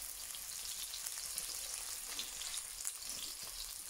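Pork cheeks frying in a hot pan, braised later with cider, give a steady, dense sizzle with fine crackling spatters throughout, close and continuous with no talking.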